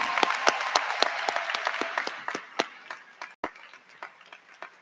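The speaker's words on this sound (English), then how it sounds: "let's give them all a round of applause" Scattered applause from a high school graduation audience, a thinning patter of distinct claps that fades gradually toward a few last isolated hands.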